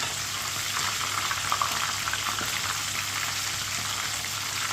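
Chicken pieces shallow-frying in a pan, a continuous even sizzle and crackle at moderate level with no voices, steady throughout.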